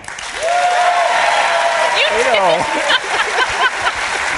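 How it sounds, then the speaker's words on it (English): A crowd claps and cheers loudly, steady noisy applause with whoops and shouting voices rising over it. "let's do an audience applause"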